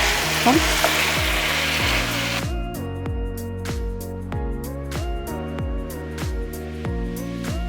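Chicken kondattam is stirred in a pan with fried dried chillies and curry leaves, the first seconds loud with hot frying hiss, then a run of rhythmic metal spatula scrapes and taps over a fainter sizzle.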